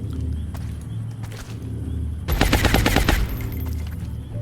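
A rapid-fire burst of gunshots in XCOM: Enemy Within's Long War mod cracks out loud and dense for about a second, standing clearly above a quieter game background.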